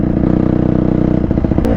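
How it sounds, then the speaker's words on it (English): A Honda CRF150RB dirt bike cruises with its exhaust fitted, its engine giving a loud, steady, throaty drone with a rapid pulsing beat that stays close and continuous throughout. "I'm gonna show you what the bike sounds like when it's cruising with the exhaust on"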